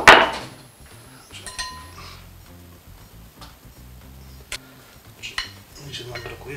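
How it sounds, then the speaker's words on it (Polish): Cake batter spooned from a bowl into mugs for a quick microwave mug cake, light clinks and taps of a spoon against ceramic, sporadic and close. "Przekładamy całą zawartość do kubeczków."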